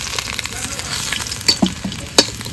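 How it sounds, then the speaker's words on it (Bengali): Steady sizzle of whole potatoes frying in hot oil for a country-chicken biryani, with a couple of brief clinks of a utensil against the pan. "এই যে আলু ভাজা হয়ে গেছে এবার তুলে নেবো"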